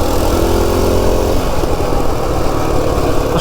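Baja Warrior minibike engine buzzing steadily while riding downhill on a street, a loud continuous small-engine drone with wind rush, close and constant, no speech.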